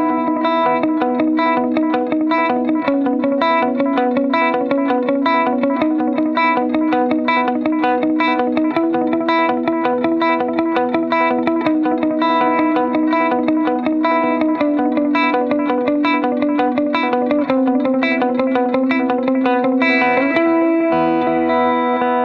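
A Friedman Vintage T electric guitar on its neck pickup with the volume about halfway plays a steady, continuous run of notes through effects with distortion and chorus, loud and close with no talking.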